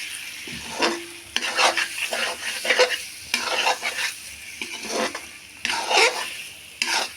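A spoon scrapes and stirs egg curry in a pan after coriander is added, with repeated scraping strokes over a soft sizzle, close and fairly loud, and no talking.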